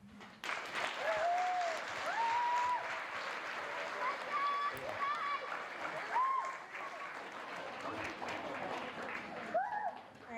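An audience at a cultural sharing event in Happy Valley-Goose Bay claps steadily for about ten seconds. Scattered cheers and whoops rise above the clapping, which stays full throughout.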